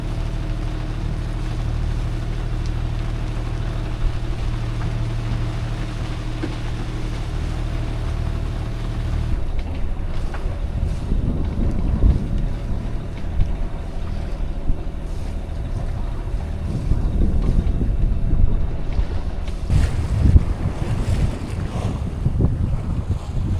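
Wind blows steadily around a sailboat at sea in about 10 knots, sailing close-hauled, with a constant low rumble and buffeting gusts across the microphone, plus splashing water and hull noise growing stronger later.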